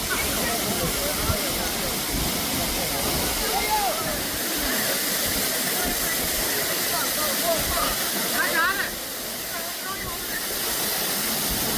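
Aruvikuzhy waterfall roars as water falls, a dense continuous rushing wash heard close and loud throughout, with faint voices in the background.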